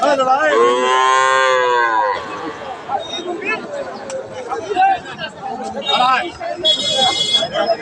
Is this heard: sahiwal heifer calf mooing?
yes